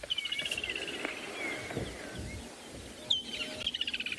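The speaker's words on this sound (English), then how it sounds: "there are a lot of birds calling, so let's just take a few seconds just to listen" Several birds call and chirp faintly over a soft outdoor background, with repeated short trilling notes near the start and end.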